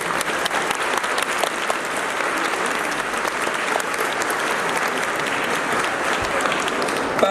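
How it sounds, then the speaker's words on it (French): A crowd at a Lunar New Year celebration in Paris City Hall breaks into dense, sustained applause, steady and fairly loud throughout, with many hands clapping together and no speech. "J'aimerais qu'on les applaudisse."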